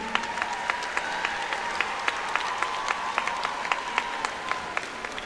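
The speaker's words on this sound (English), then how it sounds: "give those individuals a round of applause who will help you come this far" Graduates applaud faculty and staff at a Florida A&M University spring commencement, a broad, even roar of clapping from a large crowd, with a few sharper individual claps standing out and a faint sustained tone underneath.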